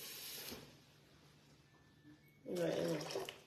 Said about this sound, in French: Je mets encore un petit peu d'eau.